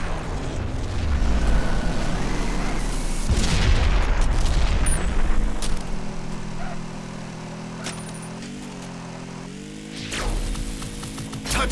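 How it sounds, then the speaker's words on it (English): Booming airstrike blasts roar through a racing video game, Hot Wheels Beat That!, with a sustained rumbling wash of explosions up front, fading into steady engine drone and a few later thuds. "Airstrike imminent!"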